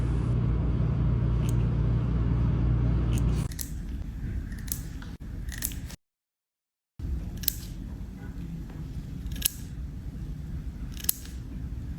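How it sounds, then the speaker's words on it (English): Crisp snips of gold scissors trimming eyebrows click at irregular intervals, close and quiet, after a low rumbling background fades out, with a brief silent gap midway. "I quite like these gold scissors."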